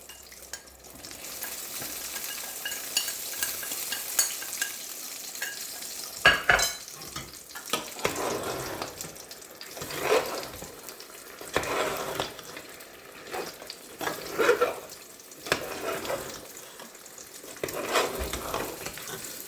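A meat and potatoes curry being stirred in a pan, with a continuous close sizzle broken by repeated scraping, shuffling strokes of the spoon at an irregular pace.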